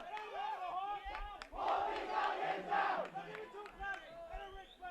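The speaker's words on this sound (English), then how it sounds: "the pump-up cheer for the Peddie cross-country team" The Peddie cross-country team shouts a rhythmic pump-up cheer in unison at a high school football game, a loud group chant with crowd noise in the background.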